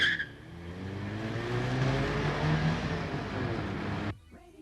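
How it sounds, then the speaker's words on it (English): A dark blue Peugeot getaway car roars off, a sustained loud engine rush with rising rev tones lasting about four seconds before cutting out abruptly to quiet. "the robbers collected their colleagues and sped off in the dark blue Peugeot"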